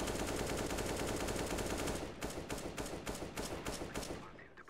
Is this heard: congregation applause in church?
no